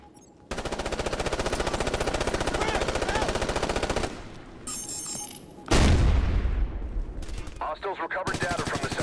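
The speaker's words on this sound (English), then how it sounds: "Taking heavy fire!" Heavy sustained automatic gunfire in a Ghost Recon: Future Soldier 6v6 multiplayer match, rapid machine-gun bursts loud and close, briefly broken by pauses and other game effects.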